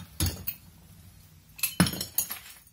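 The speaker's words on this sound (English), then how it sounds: "It's got a bunch of glass shards in it" Glass shards from a shattered rooster candle lamp clink and rattle inside a box in a few separate bright jingles, close and fairly quiet, with short silences between shakes.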